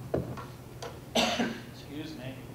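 A single sharp cough, close and fairly quiet, then a short throat-clearing sound with a breathy trailing noise.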